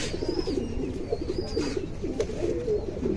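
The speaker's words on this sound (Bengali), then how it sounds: "এটা চুন্নু ভাই যে নাম করা লোক, চুন্নু ভাইয়ের ফাইটার কবুতর" A fighter pigeon coos repeatedly in soft, throaty bursts close by, with a faint thin chirp above and a low background rumble.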